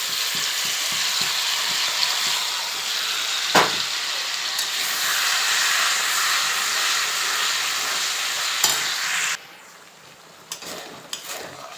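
Dried red chillies, bay leaves and a ground spice paste sizzling in hot oil in a home kitchen, a loud steady hiss that stops abruptly near the end and leaves a few faint clinks.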